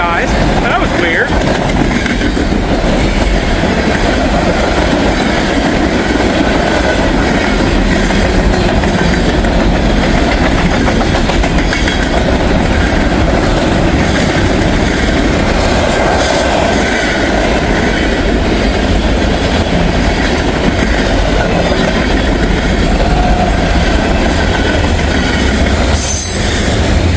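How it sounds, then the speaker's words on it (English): Train locomotives roll past on rails close by, a loud continuous rumble with wheel squeal and clatter that fills the whole stretch, without any horn. "catch the locomotives going"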